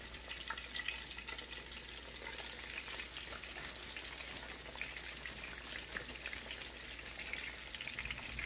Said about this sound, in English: the sizzle of the fish hitting the hot oil